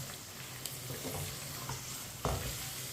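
Shinwari karahi is stirred in a pan after fresh coriander goes in, giving a soft steady sizzle with faint scraping and one louder clatter near the end, and no voices.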